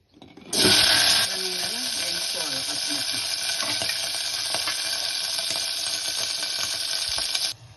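Green chillies hit hot oil in a bowl with a sudden loud burst of sizzling, which then settles into a steady bright crackle that runs on until it cuts off.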